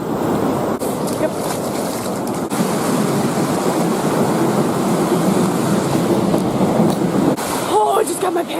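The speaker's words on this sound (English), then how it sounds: "I am on the beach." Ocean waves at Myrtle Beach roll and wash in a steady, loud broadband surge mixed with wind buffeting, with a brief voice near the end.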